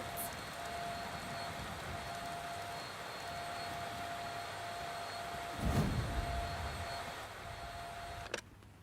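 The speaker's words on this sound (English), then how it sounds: "The Hoover is too loud." A Hoover vacuum cleaner runs steadily with an even motor whine and airflow hiss, a brief bump of low rumble partway through, before a sudden click near the end.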